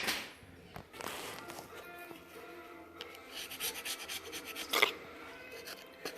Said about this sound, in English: If you're cleaning a gasket surface, use a Scotch-Brite, use a scraper